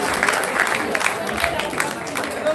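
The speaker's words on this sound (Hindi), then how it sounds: "जोरदार तालियां हो जाएंगे" Hindi-speaking audience applauding loudly at a participant appreciation event, a dense steady wash of clapping sustained throughout.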